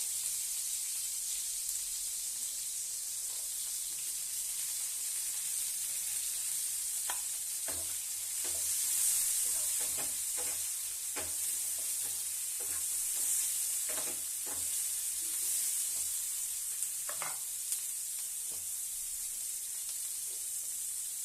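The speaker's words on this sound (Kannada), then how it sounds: "ಹೆಚ್ಚಿರೋ ಬೆಳ್ಳುಳ್ಳಿ ಇದು ಸ್ವಲ್ಪ ಫ್ರೈ ಆಗ್ಬೇಕ್ರಿ" Chopped garlic fries in a pan for a vegetable paneer roll, giving a steady, close sizzle throughout, with scattered scraping stirs in the middle stretch and no voices.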